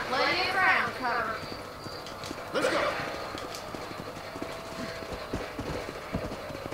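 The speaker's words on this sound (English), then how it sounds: "That's my horse, there he is." A horse clip-clops along in the Red Dead Redemption western video game, a steady run of hoofbeats under a game character's voice and a brief whinny.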